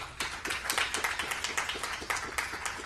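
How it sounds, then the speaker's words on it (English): Applause breaks out among the crowd in the Vishnu Mandir temple in Toronto, a few seconds of moderately loud, fairly even clapping from a modest gathering of many hands, with no talk over it. "let's give a big round of applause"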